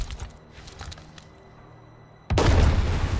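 Artillery fires in Headquarters: World War 2, a heavy, sustained boom that bursts in abruptly after a quieter stretch and stays loud to the end.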